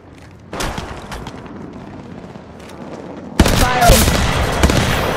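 Rapid bursts of gunfire from the Apex Legends video game played on an iPad, loud and dense, with a sharp heavier volley starting late that continues under game audio.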